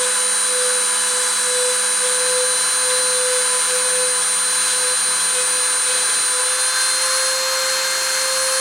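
A CNC machine spindle runs a program, giving a loud, steady high-pitched whine with constant tones that holds unbroken throughout, close and with no talk.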